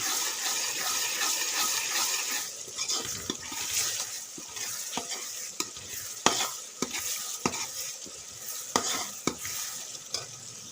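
Spices with red chilli and ground coriander roasting in a pan, a sizzling base broken by frequent spoon stirs and scrapes that grow sharper and more regular toward the end, nobody speaking.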